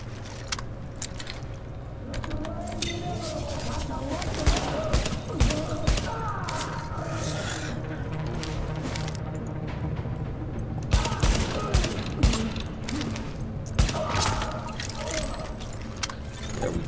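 Rapid gunfire bursts in the video game Tom Clancy's The Division, dense crackling volleys over a steady game soundscape, with someone speaking at points.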